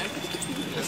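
A red pigeon gives a soft, short coo, faint and brief against a low background hum.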